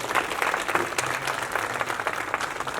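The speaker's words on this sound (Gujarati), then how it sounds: "તો એમના માટે જોરદાર તાળીઓ થઈ જાય" A karaoke competition audience applauds a sponsor at a grand finale in Vadodara, a continuous crowd of claps, fairly distant and even, with no speech over it.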